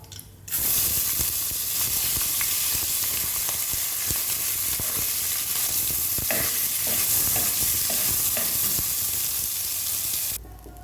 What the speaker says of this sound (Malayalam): ഈ അരി ഒരു 2-3 മിനിറ്റ് ഇങ്ങനെ ഒന്ന് ചെറിയ തീ വെച്ച് ഇളക്കി എടുത്തേച്ച്